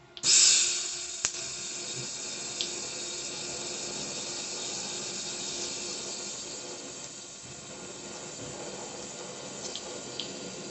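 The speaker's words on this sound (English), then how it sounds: "I'll tack weld it in that position" Tack welding front suspension mounts on a home-built LoCost car produces a steady, close broadband hiss with a light crackle. It starts sharply and carries on almost unbroken for about ten seconds, with no talking.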